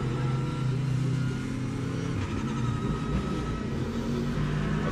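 A NASCAR Cup car engine rumbles loudly and steadily through a victory lap on the Grant Park street course, with crowd noise mixed in and no talk.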